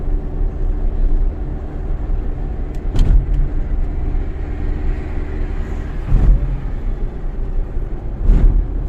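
A car drives along the Pondicherry bypass road, giving a steady, loud engine and tyre rumble, with brief louder swells as other vehicles pass, and no talking.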